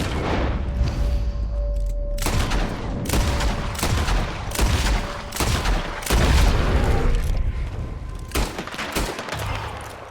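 Gunfire during a bear hunt in the video game Red Dead Redemption 2, a loud string of rifle and pistol shots cracking one after another over a constant rumbling game backdrop.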